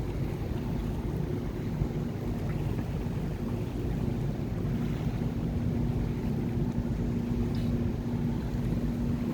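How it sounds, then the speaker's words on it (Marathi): Low, steady rumbling drone of a heavy cargo ship's engine moving through water, constant and unbroken, with faint wind noise. "अशा प्रकारे जे जहाज आहे ते जात आहे"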